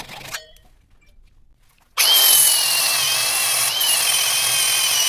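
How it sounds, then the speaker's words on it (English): A Harbor Freight Japanese pole saw drawn across a crumpled steel axe, a steady loud scraping rasp of teeth on metal that starts abruptly after a quiet moment and continues evenly. "the best thing to do here is to take a Japanese pole saw and cut this off"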